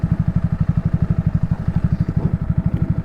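A Honda Grom motorcycle engine chugs at low revs with a fast, even single-cylinder pulsing, loud and close throughout the few seconds.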